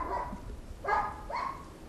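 A dog gives two sharp, close barks during an obedience training exercise, with outdoor background noise and no talking during the barks.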